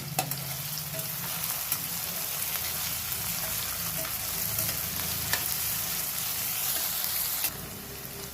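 Onions frying with salt in a pan for a village-style rooster curry make a loud, continuous sizzle with occasional spatula scrapes and clinks over the steady crackle.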